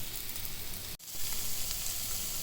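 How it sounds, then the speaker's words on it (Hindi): Shami kebabs fry in a pan with a steady close sizzle, broken by a brief dip in the middle before the hiss resumes. "और यहाँ पर फ्राई कर रही हूँ मैं शामी कबाब।"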